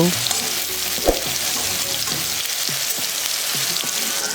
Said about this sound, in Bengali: এবারে এগুলো তেলের মধ্যে দিয়ে হালকা ভেজে নেব